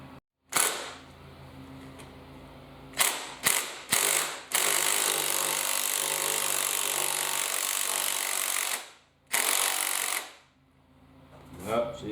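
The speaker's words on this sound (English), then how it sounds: "So I'm going to use a impact driver and try to see if I can't ratchet that out of there" An impact driver rattles and ratchets in several bursts against a stripped top hex on a 2nd-generation Virago motorcycle fork, loud, close, clattering spells separated by short pauses.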